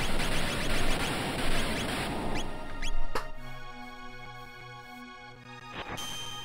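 Max Shock spell effect from the Chrono Trigger video game: a dense, bright burst of synthetic crackle for about three seconds, then a sharp hit and pulsing tonal chimes with steady electronic tones, and no talking.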